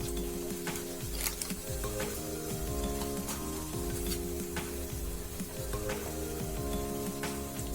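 Shahjeera (caraway) seeds sizzle in hot oil in a pan while a chicken curry is being made. The frying is dense and steady, with fine crackles and a few sharper pops, heard close up and alone.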